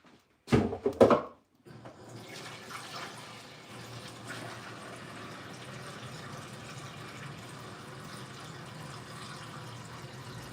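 Tap water runs in a steady, moderate stream into a kitchen container while making lunch, following a couple of brief clattering knocks at the start.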